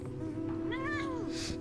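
A cat mount in Final Fantasy XIV gives a single short, clear meow in the game, heard over steady background music.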